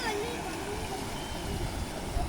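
Floodwater gushes fast over a broken tar road after heavy rain, a steady close rushing wash with a constant roar and no breaks, and a voice talks faintly underneath.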